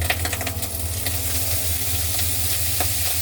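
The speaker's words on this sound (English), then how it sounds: "I put my soya sauce around the outside of the pan." Soy sauce sizzles as it is poured around the edge of a hot frying pan of Hong Kong-style fried rice, a steady close crackling hiss with scattered sharper pops and no talking.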